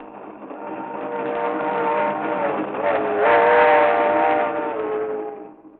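A train rolls by with a long, rising and falling horn blast over steady mechanical rumble, swelling then fading away.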